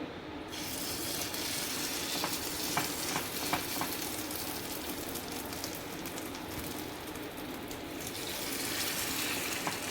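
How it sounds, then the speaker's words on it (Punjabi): Moong dal appe batter is spooned into a pan of hot desi ghee, giving a steady, close sizzle throughout with a few faint clicks and taps from the spoon and pan. "ਹੁਣ ਆਪਾਂ ਇਹਨੂੰ ਚਮਚ ਨਾਲ ਇਸ ਤਰ੍ਹਾਂ ਪੈਨ ਦੇ ਵਿੱਚ ਪਾਉਂਦੇ ਜਾਵਾਂਗੇ"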